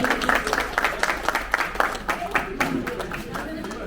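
Applause from a member gathering of an Odia association in Bangalore, welcoming a senior member: dense, steady clapping from many hands, fairly near, with murmured crowd voices mixed in throughout.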